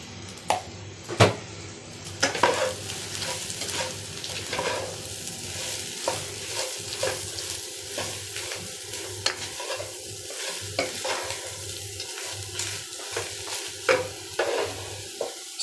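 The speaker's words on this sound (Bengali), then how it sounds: "লাল লাল করে ভেজে নিব" Soybean chunks fry in a pan with a steady low sizzle, punctuated by frequent scraping and knocking strokes from a spatula stirring them, close and fairly quiet.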